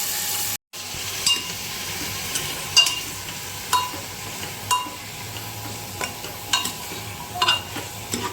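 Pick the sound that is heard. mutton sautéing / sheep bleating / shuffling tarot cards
mutton sautéing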